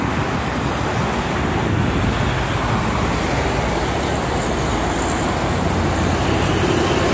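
A twin-trailer truck in busy morning traffic on the Jakarta–Cikampek toll road, heard as a steady broadband roar of passing vehicles and wind with no talk.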